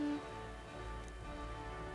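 Soft, steady rain patters in Metaphor ReFantazio, a faint wash of falling drops layered over quiet game music with no voices.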